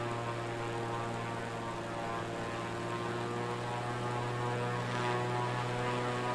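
A propeller airplane flies low over houses near Bentonville Municipal Airport in a flight simulator game, its engine a steady, loud droning hum with no break and no talk.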